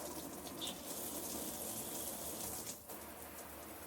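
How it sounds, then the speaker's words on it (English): An upgraded RV shower head sprays water onto the shower base, a steady, close, broadband hiss and patter that continues unbroken, with a brief dip in the rush partway through. "You can hear the pressure hitting the base of the shower."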